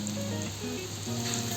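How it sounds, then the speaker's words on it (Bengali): Chopped chilli, ginger paste and other ingredients frying in a pan as a filling for stuffed fish, a dense, continuous sizzle with faint tonal hum underneath and no voices. "মাছের পুরের জন্য এগুলোকে ভালো করে ভেজে নিতে হবে।"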